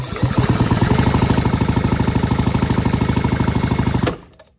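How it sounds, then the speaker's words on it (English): A Ryobi BP42 backpack leaf blower's small two-stroke engine is spun over rapidly by a drill with a steady, loud mechanical chug for about four seconds, then cuts off abruptly and winds down. "I'm spinning it with a drill, by the way."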